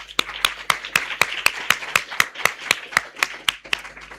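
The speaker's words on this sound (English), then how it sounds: "May I invite you to give yourselves a round of applause." Rhythmic, evenly spaced claps in unison at a JamCoders summer camp graduation ceremony, about four per second, crisp and fairly close with a faint hum underneath.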